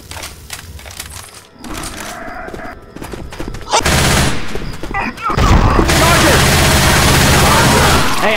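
Dense rapid gunfire from the zombie shooter game Left 4 Dead 2, sustained bursts growing louder and heavier partway through, with a brief lull before the volume jumps again.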